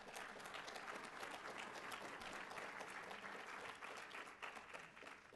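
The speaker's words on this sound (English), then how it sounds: "How about a round of applause for the Urban Air Initiative?" A breakfast audience of mayors and business leaders gives sustained applause, even and continuous throughout, easing slightly at the end.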